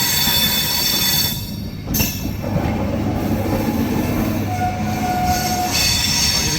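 13212 Intercity Express on the Danapur to Jogbani route in Bihar, heard as a steady loud rumble of wheels on rails with wheel squeal and a brief high whine, continuous throughout without talk.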